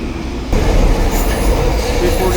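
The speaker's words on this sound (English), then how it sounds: "on the westbound platform, waiting for the next train." A SkyTrain metro train rumbles loudly into a westbound station platform in Burnaby, British Columbia, a low steady roar of wheels on rails with faint squealing, close by.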